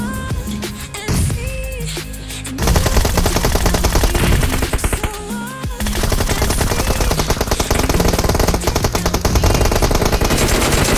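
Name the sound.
video game gunfire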